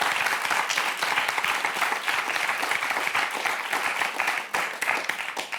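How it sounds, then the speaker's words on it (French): A studio audience at a French television quiz show applauds three contestants after a four-in-a-row round. Dense, sustained clapping from many hands runs continuously at an even level, fairly close, with a brief dip near the end before resuming. "Mesdames, on peut vous applaudir toutes les 3"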